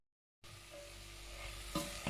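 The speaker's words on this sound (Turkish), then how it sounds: "eti tencereme aldım. Şöyle rengi dönene kadar karıştırıyorum." Meat for a meat and potato stew sizzles steadily in a hot pot as it browns after a moment of silence, with occasional scraping clinks of a utensil stirring.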